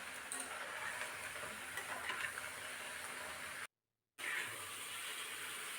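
Spices and ingredients being stirred in a pan during home cooking, a steady soft scraping and faint sizzle running throughout, broken by a brief gap of silence, with no talking.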